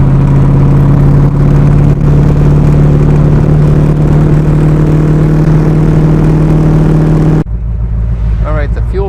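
A Factory Five Cobra with a Blue Print Engines small-block Ford drones steadily while driving, a loud, constant mid-pitched engine hum from inside the car that drops away abruptly near the end.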